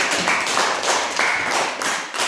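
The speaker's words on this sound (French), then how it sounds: "Applaudissez pour elle." Dense, continuous clapping from a crowd, loud and steady for a couple of seconds with no voices over it.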